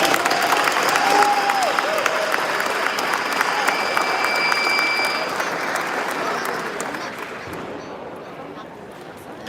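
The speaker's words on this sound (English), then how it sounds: "Let's give a round of applause for that." An audience at a hip-hop talk gives a sustained round of applause, dense clapping with crowd noise that stays loud before gradually thinning out toward the end.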